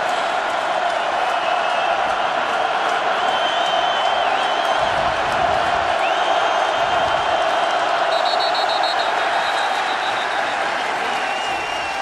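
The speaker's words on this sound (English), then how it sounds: "Crowd noise." A packed football stadium crowd at an FCS quarterfinal between NIU and North Dakota State roars in a continuous, loud wash of cheering and noise that holds steady throughout, with faint whistles and whoops inside it.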